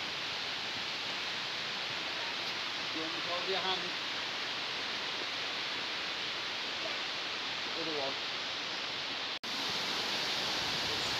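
Steady broadband rush of a waterfall near its top in the Mourne Mountains near Newcastle, Ireland, constant and fairly quiet throughout, with brief faint voices in the background and a short dropout near the end.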